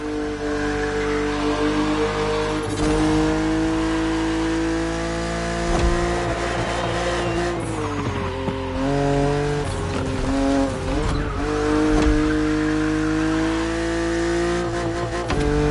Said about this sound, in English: Your car is the Z4 E89, a very cool model